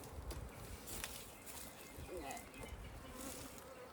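Honey bees buzz at low level in and around a top bar hive, a steady diffuse hum with a few louder passes near the microphone.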